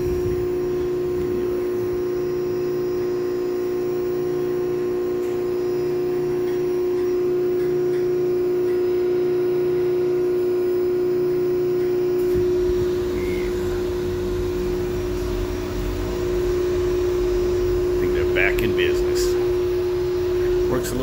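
A new Lochinvar boiler hums steadily, then fires up about halfway through, when a fuller, louder broadband roar joins the constant mechanical drone and continues to the end.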